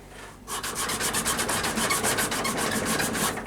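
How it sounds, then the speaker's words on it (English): Sandpaper rubs briskly over an ebony overlay on a hickory pyramid bow, a close, steady run of quick back-and-forth strokes that starts after a brief pause and continues to the end. "quick rub with sandpaper"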